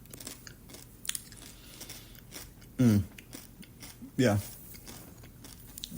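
Reese's Pieces candy crunched and chewed close to the mic in two short, loud bursts, with a brief word spoken between quieter stretches.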